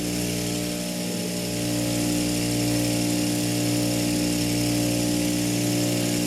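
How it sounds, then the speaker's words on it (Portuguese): A conical grinding wheel polishes a knife blade, giving a steady, loud motor drone with a constant hum that runs without a break. "Observem a facilidade que eu tenho de trabalhar com o rebolo cônico"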